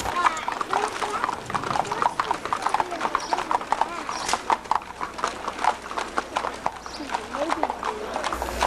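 Horse hooves clip-clop steadily on pavement, many overlapping strikes, with crowd voices murmuring underneath throughout, as horses, wagons and riders parade through the streets of Plentywood.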